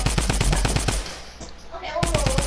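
Rapid automatic gunfire in the Fortnite video game, loud bursts of closely spaced shots at the start and again at the end with a quieter gap between, game sounds only.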